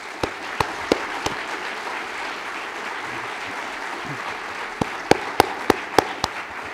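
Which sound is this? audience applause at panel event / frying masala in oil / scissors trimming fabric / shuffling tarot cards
audience applause at panel event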